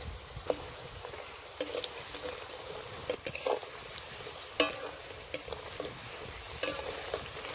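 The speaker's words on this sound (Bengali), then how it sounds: "এই কলার চিপসগুলো অবশ্যই আপনারা আস্তে আস্তে জাল দিয়েই ভাজতে হবে।" Raw banana chips frying slowly in oil over low heat, a soft steady sizzle broken by scattered clicks and scrapes of stirring, fairly faint and close, with no talking.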